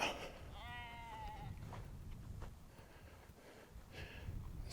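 A single black sheep bleat rings out at a moderate distance over breezy outdoor noise at Old World Wisconsin, Eagle, Wisconsin, followed by faint snorts and rustling.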